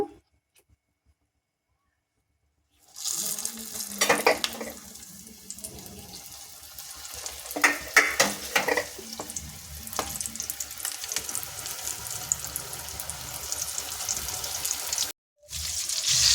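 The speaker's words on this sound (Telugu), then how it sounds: "ఇప్పుడు నూనె కాగిపోయిందండి ఇప్పుడు బజ్జీలు వేసుకుందాము" Cut mirchi bajji, battered chillies, dropped into hot oil: after a silent start, a loud, continuous sizzle and bubbling with crackling bursts fills the rest of the clip, broken by a brief dropout near the end.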